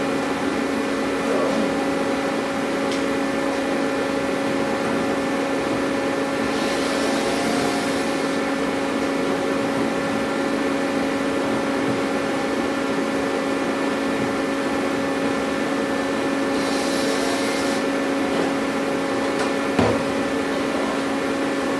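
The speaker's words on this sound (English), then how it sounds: "I'm going to go turn the heat back on." A heater runs inside an aircraft hangar, a steady mechanical drone with a strong constant hum and airy rush that holds level throughout, with a couple of brief hissy swells and one small knock near the end.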